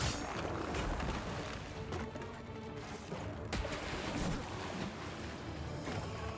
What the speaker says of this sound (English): As soon as you hear a gush of water, that's when you double roll.